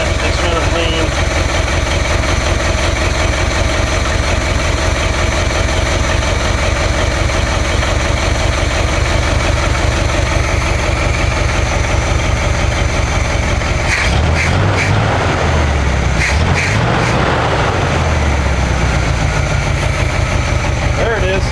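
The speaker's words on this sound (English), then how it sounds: "I don't think we're quite running on the idle circuit yet. It's running lean." Old GMC truck engine, abandoned for 30 years, idling lean with a steady mid-low rumble and rapid firing pulses, briefly roughening and surging partway through, heard close and continuous.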